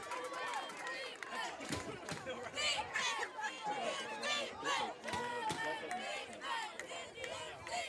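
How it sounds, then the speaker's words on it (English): A high school football crowd cheering in the stands, with excited shouts, whoops and chatter rising in uneven bursts, loud and busy throughout with many overlapping voices. "Oh, no, is this getting loud over here in this crowd right now?"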